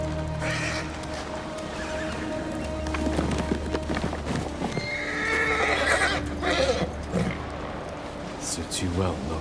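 A horse in the video game Ghost of Tsushima gives a loud whinny amid clopping hooves and movement, with a voice speaking over part of it.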